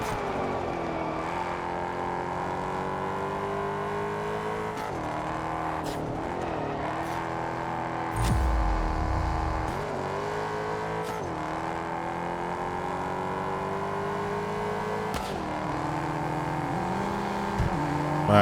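Racing cars in the Test Drive Unlimited Solar Crown driving game accelerate and pass, a steady loud engine drone with rising and falling revs, gear changes and a brief lower whoosh midway.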